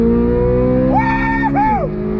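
A 2023 Chevrolet Corvette Z06 engine under throttle, loud and close, its harmonic tone climbing sharply in pitch, briefly dipping as a gear changes, then climbing again before easing off.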